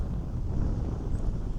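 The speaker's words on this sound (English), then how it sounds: "It's getting dark, getting windy." Wind blows steadily outdoors at dusk in New York, buffeting the microphone with a continuous, loud, rumbling roar.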